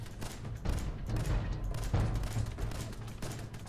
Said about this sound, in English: I've been shooting at it for a while